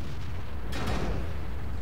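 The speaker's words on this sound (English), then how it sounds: "it was the one shell of the Jagdpanzer that bounced from my gun mantle" A Jagdpanzer E100 shell strikes and bounces off the gun mantle of a Waffentrager auf E100 in World of Tanks: one sharp, loud impact burst over a steady low engine rumble.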